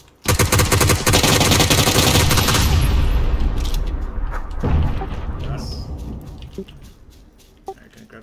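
Dense automatic gunfire in PUBG on the snowy Vikendi map, a loud sustained burst of rapid shots for about two seconds, then scattered fainter shots and echoes trailing off.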